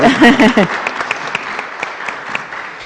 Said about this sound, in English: Could we give a round of applause for the courage that took?